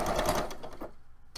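A sewing machine runs in a steady, close buzzing stitch through fabric during a crafting session, then stops abruptly and leaves near silence before a brief click at the end.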